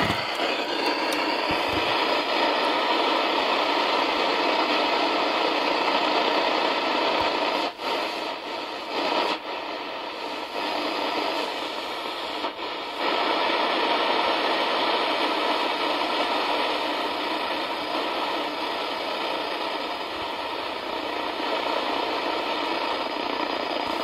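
An old radio picked up at the roadside, switched to medium wave and tuned to no station, gives off a steady broadband hiss of static. The hiss runs continuously with a few faint crackles and brief dips.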